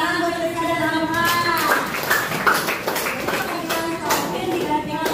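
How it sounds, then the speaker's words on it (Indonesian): Children in a classroom clap together in a lively burst, with the clapping mixed under a teacher's voice and children's chatter throughout. "Tepuk tangan buat Tesla dan Alfa."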